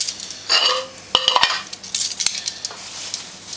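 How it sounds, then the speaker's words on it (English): Olive oil crackles in a metal pan on a small survival stove, a soft sizzle overlaid by clattering bursts of metal pan and utensil knocks, close by with no talking. "So what we're going to do is put some oil in here. A bit of olive oil. Sizzling already."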